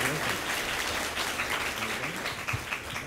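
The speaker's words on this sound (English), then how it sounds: "let's get a big round of applause for our winner." A university talk-concert crowd claps for a contest winner, sustained dense applause that holds evenly, with a few louder nearby claps standing out near the end.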